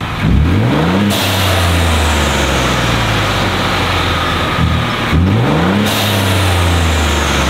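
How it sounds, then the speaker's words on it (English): Ford F150 EcoBoost pickup fitted with a blow-off valve revs loudly up close, two sharp climbs in engine pitch each cut off by a hissing valve release, with a steady idling rumble between. "I also installed a blow-off valve because it's an EcoBoost F150."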